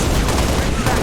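Dense, continuous gunfire in the video game Halo: Reach rattles loudly with overlapping bursts, a heavy barrage filling the whole moment.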